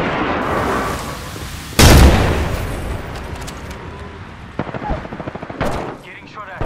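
Automatic weapon fire in the Apex Legends battle royale game, with R99 and Prowler guns: rapid bursts and a loud blast near the middle, followed by quicker rattling volleys and impacts, close and harsh amid game noise.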